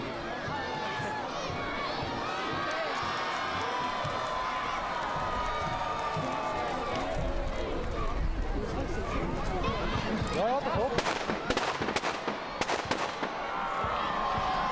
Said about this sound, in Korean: 요란한 폭죽 소리와 함께 배그에 불이 타오르면